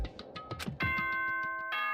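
A Danganronpa video game announcement chime plays: a short run of bright plucked notes, then a sustained ringing bell-like chord that holds loudly to the end.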